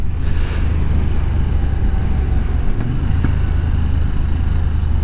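A Moto Guzzi V85TT motorcycle ridden along scenic hill roads near Devils Dyke, Brighton, giving a steady, loud engine drone mixed with rushing wind noise that holds throughout without any talking.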